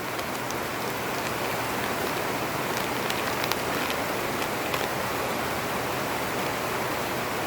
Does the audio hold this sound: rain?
yes